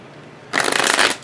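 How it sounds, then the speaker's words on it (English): One quick, close riffle of tarot cards being shuffled, a brief crisp flutter lasting about half a second against a quiet room. "I love when you get a nice clean shuffle."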